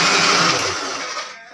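A kitchen mixer grinder whirring loudly at close range in a steady high-pitched drone, running alone for about a second and a half before starting to wind down.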